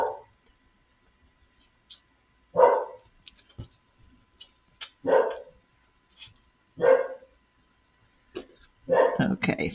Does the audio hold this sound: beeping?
no